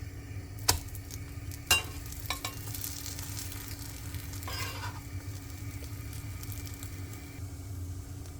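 French toast frying in butter in a pan just after it is flipped, giving a steady soft sizzle throughout, with two sharp knocks early on and a few faint utensil scrapes.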